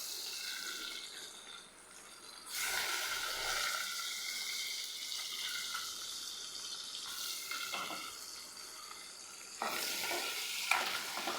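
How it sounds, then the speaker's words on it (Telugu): Curry with turmeric frying in a pan, a continuous loud sizzle with stirring scrapes that swells and resets a few times, with no voices. "అలాగే వేపేసాను. ఇంకా ఎర్రగా వేపుకోవచ్చు"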